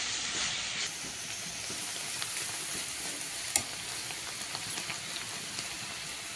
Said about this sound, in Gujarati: ડુંગળી અને પછી ભાજી ઉમેર્યા બાદ આપણે માત્ર 3 થી 4 મિનિટ મિક્સ કરવાનું છે